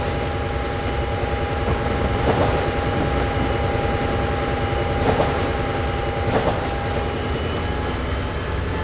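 A long freight train in a rail simulation game rolls steadily along with a continuous rumble, periodic clatter of wheels over joints, and a faint sustained tone, no voices.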